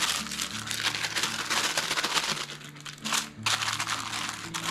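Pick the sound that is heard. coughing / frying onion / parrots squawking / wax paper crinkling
wax paper crinkling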